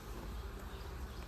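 Honey bees buzzing at the entrance of an apiary hive, a continuous faint drone with no breaks, heard alone without voices.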